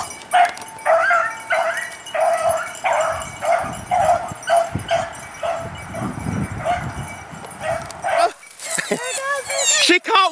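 Several beagles bay and yip in a hunting pack, overlapping excited barks repeating steadily at mid distance, rising into a louder, higher chorus of yelps near the end.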